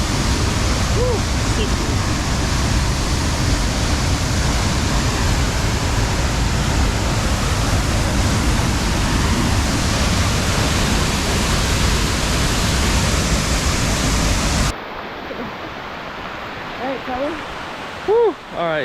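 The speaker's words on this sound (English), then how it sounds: "it started pouring right as we got to the waterfall" Heavy rain pouring at a rainforest waterfall in Costa Rica, a dense loud hiss roaring continuously before abruptly dropping to quieter patter with brief rustles near the end.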